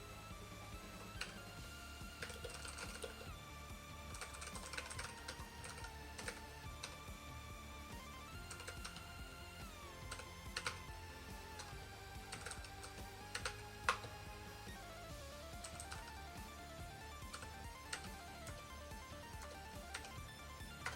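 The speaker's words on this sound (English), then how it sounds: "I am not good at typing this" Typing on a computer keyboard while coding, soft, quick, irregular key clicks in scattered bursts across a long, quiet stretch, fairly faint with no talking.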